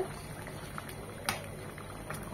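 Chicken curry simmers in a pot with a faint, steady bubbling, soft and close, broken by a few small pops and clicks.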